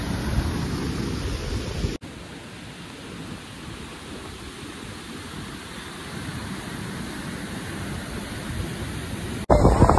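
Steady, dense roar of heavy water pouring down a step waterfall at Chalkewadi, swollen with water, a constant close wash of noise that cuts abruptly in level partway through.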